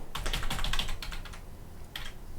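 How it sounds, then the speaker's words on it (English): Rapid clattering keystrokes on a computer keyboard, a dense burst of typing that pauses briefly and resumes with a few more taps, close and fairly loud. "My keyboard is still working."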